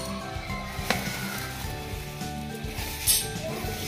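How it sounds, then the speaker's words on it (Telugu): Short broken vermicelli fries in ghee for sheer kurma, a close, steady sizzle with light scraping stirs and an occasional brief crackle. "ఇవి నెయ్యిలో వేసి వేయించుతున్నాను"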